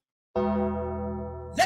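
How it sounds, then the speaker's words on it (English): A single struck gong rings out with a sustained, slowly fading metallic tone, followed by a brief vocal sound near the end. "He hit the gong"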